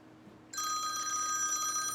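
A telephone bell begins ringing after a brief hush and keeps trilling steadily, moderately loud over a low background hum, with no voices.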